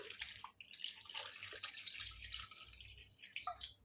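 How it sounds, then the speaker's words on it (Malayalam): Water is poured into a simmering sardine curry, heard as a faint, close trickle with scattered drips and small splashes, nobody speaking. "കുറച്ച് വെള്ളം ഒഴിച്ചു കൊടുക്കുക"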